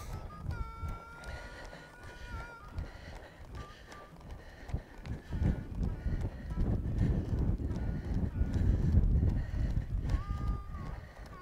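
Horse hooves trotting over ground poles in a riding arena, a run of rhythmic clip-clop beats that grows louder and heavier toward the end, with occasional faint background noise.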